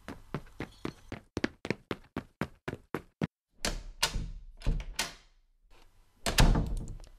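A door knock sound effect in a German-language audio story: a rapid series of crisp wooden knocks, then a pause, followed by heavier thuds and the rattling clunk of the door opening.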